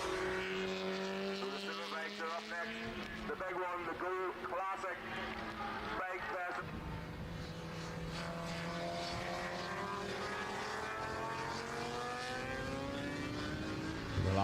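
Classic racing motorcycles, including an RSP Aprilia, pass the checkered flag at a classic bike festival race, engines droning and whining as they go by at a distance, with a few quick passes and a sustained engine tone, under a public-address commentator.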